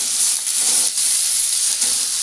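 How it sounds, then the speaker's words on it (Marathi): Onion sautéing in a pan for a homemade paneer masala, a steady bright sizzle and frying hiss that pulses slightly as it is stirred, close and fairly loud with no talking. "आणि त्यामध्ये कांदा घालायचा। थोडंसं परतला की त्यामध्ये टोमॅटो घालायचं"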